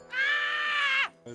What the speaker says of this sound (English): It was a good scream